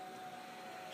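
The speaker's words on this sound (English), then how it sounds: "Now it rolls up." A power window motor in a 1994–2004 Ford Mustang hums steadily as it rolls the glass up, a continuous whirring drone lasting about a second with no voices.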